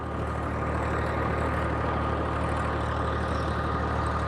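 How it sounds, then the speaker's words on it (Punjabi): A steady generator engine drones continuously at an even level in a farm field, a low rumbling hum with no breaks, heard alone without voices. "ਸਵੇਰ ਦਾ ਹੀ ਖੇਤ ਚ ਜਨਰੇਟਰ ਚੱਲੀ ਜਾਂਦਾ"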